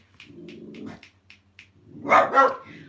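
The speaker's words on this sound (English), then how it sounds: "wait a minute, there's a dog" A dog barks nearby: a run of short, quiet yips comes first, then two loud, full barks close together near the end.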